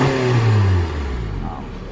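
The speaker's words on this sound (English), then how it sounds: "Revving it up." A 2017 Honda HR-V engine revs up loudly, its pitch climbing then dropping back to a steady idle rumble, close by.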